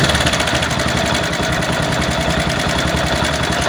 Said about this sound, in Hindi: अब मोटरसाइकिल को स्टार्ट करते हैं और इसका साउंड चेक करते हैं।